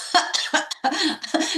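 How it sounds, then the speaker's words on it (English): Several harsh coughs from one person come in quick bursts close to the microphone, loud and alone for a moment on a talk show. "I'm coughing up over here."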